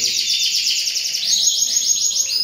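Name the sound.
pet bird chirping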